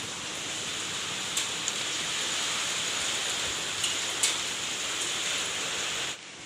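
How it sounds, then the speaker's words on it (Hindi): Steady rain falling at night, a dense, even hiss of drops close by that holds throughout, with a few sharper drips standing out before it cuts off at the end. "और आज भी बारिश हो रही है, और 12 बजने वाले हैं"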